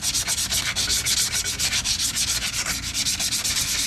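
Steady, rhythmic scraping of coarse, low-grit sandpaper on titanium, fast repeated strokes, loud and close with no talking.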